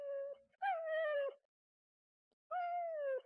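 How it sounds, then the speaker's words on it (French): A wolf cub in Resident Evil 4 VR lets out two long, tonal whimpering cries separated by a pause, clear and alone with no talk over them. "Oh, le pauvre petit loup."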